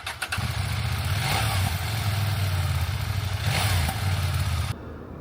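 A CFMoto motorcycle engine starts and revs with a raspy, mid-pitched, not bassy exhaust note, rising and falling twice before cutting off abruptly.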